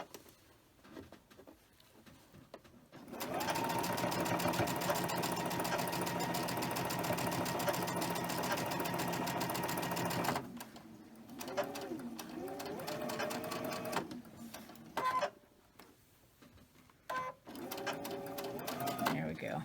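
Sewing machine stitching cotton fabric, a steady continuous whir running for several seconds, then shorter stop-start bursts of stitching with brief pauses between, close and fairly loud.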